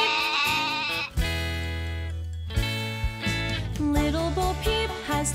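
Sheep bleats set within a children's nursery song, sounding over bright, steady musical accompaniment with sustained tones and melody throughout.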